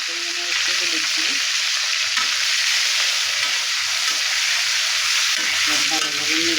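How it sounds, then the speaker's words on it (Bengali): Potatoes fry in hot mustard oil with a loud, constant sizzle close up, while a spoon stirs them and scrapes the pan in short bursts. "ভালোভাবে নেড়ে চেড়ে আলুগুলো ভেজে নেব।"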